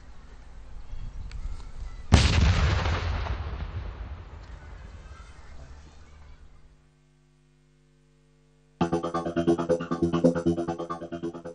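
Land mines destroyed in a controlled explosion in Angola: a single loud, sharp blast with a long rumbling decay fading out over several seconds, then a brief silence before a burst of broadband noise.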